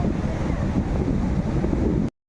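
Steady roaring surf and wind from open sea, a continuous wash of waves breaking on rocks nearby off Bali, loud and unbroken before cutting off abruptly.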